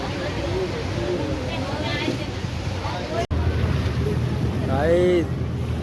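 River water sloshes and washes around a small boat near the Burul ferry ghat, under heavy wind rumble on the microphone, with a voice and bird-like calls briefly rising above the steady noise.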